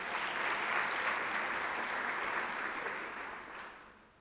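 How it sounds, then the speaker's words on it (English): Audience applause at a University of South Africa spring graduation ceremony, a steady wash of many hands clapping that holds loud for several seconds before thinning and fading toward the end. "They deserve a round of applause."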